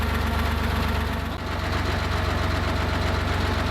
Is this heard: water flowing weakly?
no